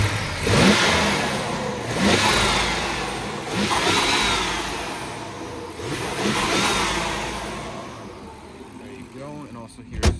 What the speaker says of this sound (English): here's a few revs of the engine